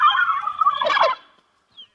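A turkey gobbles once, close and loud, in a rapid rattling burst after a brief tonal call. The sound then cuts to silence, broken only by a faint short chirp.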